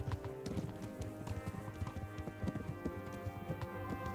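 A horse trots in Kingdom Come: Deliverance, its hooves clopping in a quick, steady rhythm over a continuous background, close and moderately loud throughout.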